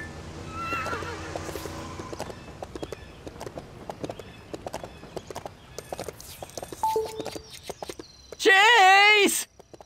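Video game horse hooves clop steadily under talking, then a loud whinny rings out near the end; from LEGO City Undercover.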